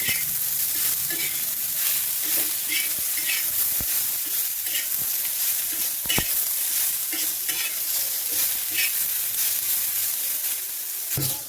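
Onions frying in oil for a mutton curry, giving a dense, steady sizzle with frequent scraping stir strokes and sharp clicks, close and continuous throughout.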